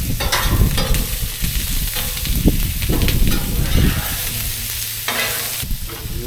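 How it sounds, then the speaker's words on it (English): Sausage fries in oil on a griddle, a loud, dense sizzle up close with scattered spatula scrapes and clicks, fading slightly toward the end, with no one talking. "Add a little bit of oil now. Get the sausage to cook up."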